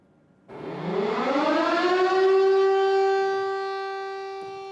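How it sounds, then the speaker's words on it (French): A city civil defense siren in Arras, sounding during a tribute to a stabbed teacher, winds up from a low pitch to a steady, loud wail, then holds and slowly fades, with nothing else audible. "La sirène de la ville retentit dans un silence de plomb."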